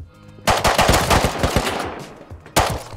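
Rapid automatic gunfire in the survival video game Rust, a fast burst of sharp close shots fading into a rattling tail, then one more loud shot near the end.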